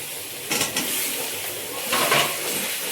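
Potato pieces frying in oil with five-spice seasoning in a village kitchen pan, a continuous sizzle broken by two bursts of scraping as a spatula stirs them.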